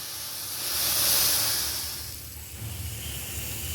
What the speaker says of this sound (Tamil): டீ கொதிச்சிட்ருக்கு.